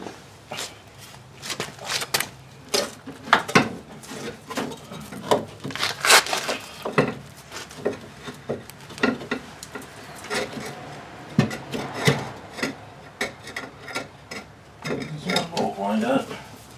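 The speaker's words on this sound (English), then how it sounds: "Take those off. Those nuts off." Nuts being taken off a car strut in a home garage repair: close clinks, metallic taps and rattling handling noises in an irregular stream, with occasional quiet rustling between the knocks.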